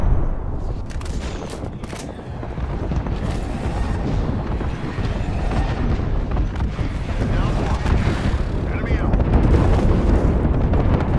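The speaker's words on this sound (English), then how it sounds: "Signaling an airstrike." Rumbling explosions and gunfire in an Apex Legends match, a dense, loud, churning barrage of blasts and shots that swells toward the end, with voices calling out underneath.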